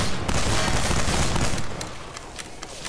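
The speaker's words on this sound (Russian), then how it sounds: "надо контрольный выстрел в голову сделать" Rapid bursts of gunfire in the video game Garry's Mod, dense and loud at first, then thinning into scattered sharp shots.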